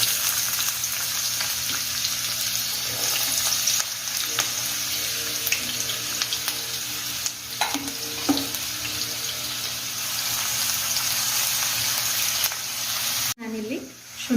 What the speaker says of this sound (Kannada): ಅದಕ್ಕೆ ಸಣ್ಣಗೆ ಕಟ್ ಮಾಡಿಟ್ಟ ಈರುಳ್ಳಿ ಹಾಕ್ತಾ ಇದ್ದೀನಿ.